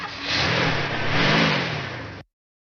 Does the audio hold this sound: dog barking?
no